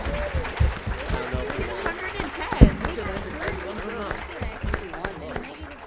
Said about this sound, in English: Let's give them a round of applause for all the students tonight.